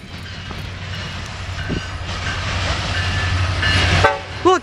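A westbound BNSF ethanol freight train rolls past in Fostoria, Ohio, with a loud, continuous rumble and rattle of rail cars. Near the end its horn sounds in short tonal blasts close by.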